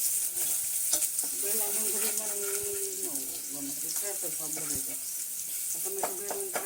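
Onion, tomato and garlic being tempered in hot oil, a steady close sizzle and frying crackle with occasional stirring scrapes, while voices talk throughout.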